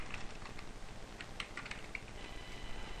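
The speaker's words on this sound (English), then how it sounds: "and I'm going to type achievers" Quiet, rapid keystrokes tap on a computer keyboard while typing in a group name, a light irregular clatter of soft clicks over faint background hiss, with no one talking.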